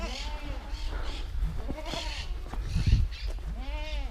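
Goats bleat repeatedly on a farm during a spring walk-around, several wavering calls from different animals, close and loud, with thumps and brief human voices in the background.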